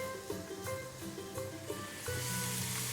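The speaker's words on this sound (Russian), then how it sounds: "Все предварительно измельченные овощи высыпаем на сковороду." A pan of chopped vegetables sizzles and hisses up close in oil, with some stirring scrapes, and the frying grows louder and steadier toward the end.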